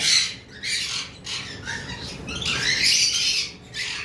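Caged lovebirds, a blue and violet pair, squawk in sharp, harsh bursts that repeat every half second or so, loud and close, with no voices.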